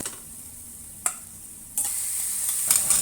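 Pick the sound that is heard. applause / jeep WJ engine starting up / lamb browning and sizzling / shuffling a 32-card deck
lamb browning and sizzling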